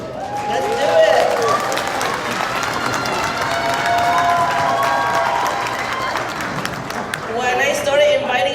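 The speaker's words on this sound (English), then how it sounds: "You all should give yourselves a huge round of applause." Crowd applause and cheering at a community gathering, sustained clapping mixed with shouts and whoops throughout, with voices talking and calling out over it.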